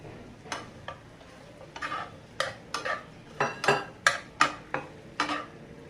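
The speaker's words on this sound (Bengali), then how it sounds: "মিডিয়াম আঁচে রেখে আমি পেঁয়াজগুলো ভেজে নিয়েছি। এবার আমি আলুগুলো দিয়ে দিচ্ছি।" Potatoes frying with onions in a pan over medium-low heat: a quiet background sizzle under a series of close spatula scrapes and taps that come faster toward the end, no talk.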